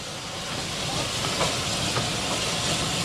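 A Spanish narrow-gauge steam locomotive hisses steam loudly and continuously close by, with faint rhythmic chuffing and rail clatter underneath over about three seconds.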